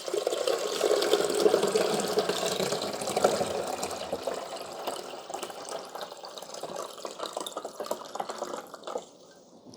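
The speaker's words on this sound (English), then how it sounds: "you're just going to pour it back here in the water reservoir" A mix of vinegar and water pours into the reservoir of a Cuisinart 14 Cup Touchscreen coffee maker, DCC-T20, a close splashing, gurgling stream that thins into drips and trickles toward the end.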